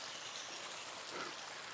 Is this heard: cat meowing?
no